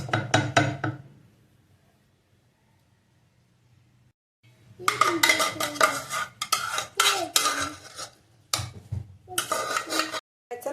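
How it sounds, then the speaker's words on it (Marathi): Hot mashed sweet potato and jaggery mixture being scraped from a pan into a wide plate for traditional sweet potato gharge: a brief scrape, a pause, then several seconds of close, busy spoon scraping and clatter with short gaps. "रताळी एक एकजीव करून घेतले बघा गरम गरम असताना एका एका परातीत काढून घेऊया आपण"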